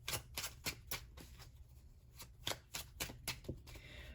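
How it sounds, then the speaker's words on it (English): Brisk, repeated riffles of a deck of cards being shuffled, crisp bursts in an uneven rhythm, close and fairly quiet with no talking. "let me shuffle these cards up really quick"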